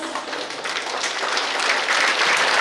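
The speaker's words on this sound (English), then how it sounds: "let's put our hands together to cheer up the boys" Students at a college annual sports meet applaud as the boys walk out to install the sports torch, a broad, steady wash of clapping that swells louder toward the end.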